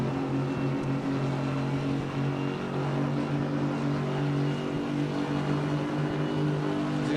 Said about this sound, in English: Listen carefully to the engine as he gets towards the end of the back straight.